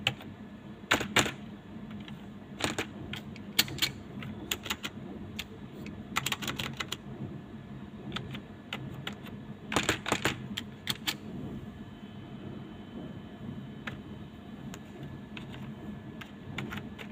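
Someone types code on a computer keyboard in clustered bursts of quick, close key clicks, with short pauses between the runs of keystrokes and no talking.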